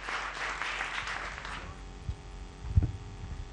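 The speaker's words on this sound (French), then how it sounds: "On va applaudir très fort pour le groupe a cappella de Like Mike" A gala evening audience applauds an a cappella group, a broad wash of clapping that fades out after a second and a half, leaving low hum and a couple of soft thumps.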